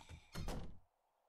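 A door in the video game 7 Days To Die swings shut with a single dull, close thud that quickly dies into near silence.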